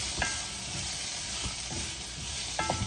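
Steady sizzling of chicken frying in a pan with parsley flakes, with a few soft scraping stirs, no voices.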